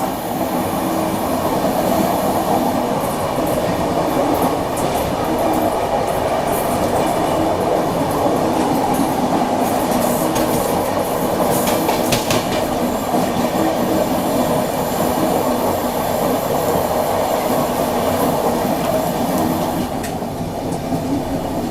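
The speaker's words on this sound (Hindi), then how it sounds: "अभी देखो ये बगल से क्रॉस हो रही है देहरादून नई दिल्ली शताब्दी एक्सप्रेस।" The Dehradun–New Delhi Shatabdi Express passes close alongside at night near the Yamuna River, a loud continuous roar of rolling wheels and rattling carriages with faint squeals, sustained for about twenty seconds with no talking.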